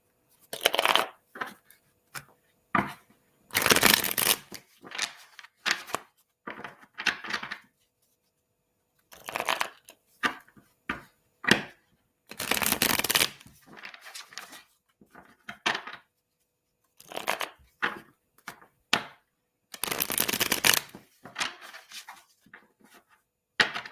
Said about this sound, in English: So I'm gonna pull some cards from the tarot.